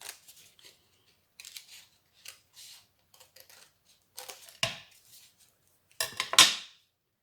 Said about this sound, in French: ce qui dépasse là, je vais le couper pour que ça fasse plus joli